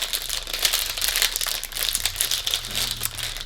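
Continuous crinkling and rustling of plastic packaging being handled and opened up close, steady with no voices.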